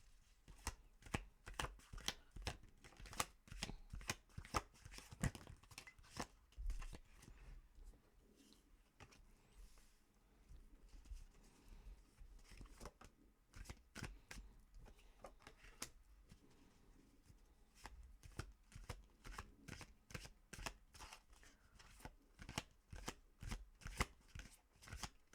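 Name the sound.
tarot cards being shuffled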